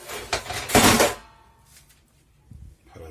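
A lid or cover is set down over paella rice in the pan, giving a short clattering metallic burst of clinks near the start, then quiet with a few faint small knocks.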